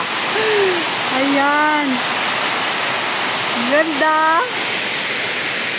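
Steady broadband rush of heavy water pouring at Tai Tam reservoir, loud and constant, with someone talking briefly over it.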